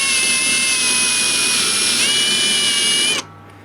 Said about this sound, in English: I've just countersunk it using that drill bit